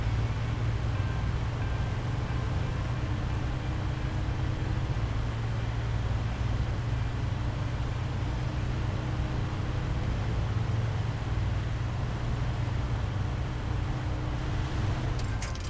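A Chevrolet truck engine in SnowRunner drones low and steady, a continuous rumble with a faint hiss above it and no talk.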